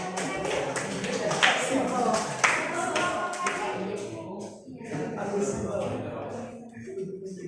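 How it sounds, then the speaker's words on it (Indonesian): Classroom applause during a lesson observation, a dense spread of hand claps from students with teacher speech running over and between them, fairly close and steady. "berikan aplaus"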